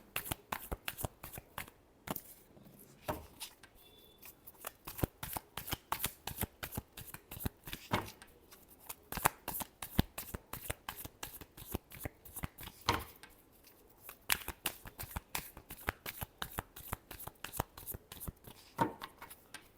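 Tarot cards shuffled by hand during a weekly horoscope reading, a steady run of crisp riffling bursts and soft slaps repeating over about twenty seconds, close and fairly quiet with no talking.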